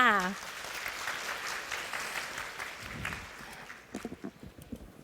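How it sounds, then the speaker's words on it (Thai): A seminar audience in Thailand, gathered for a session on R2R quality improvement in healthcare, claps after a voice briefly trails off, the applause moderately loud at first, then loosening into scattered, sparser claps. "ขอเสียงปรบมือดังๆให้กับทุกคนค่ะ"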